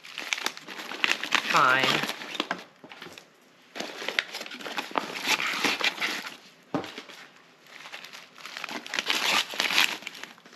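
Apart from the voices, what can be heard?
packing freeze-dried food bags into a bag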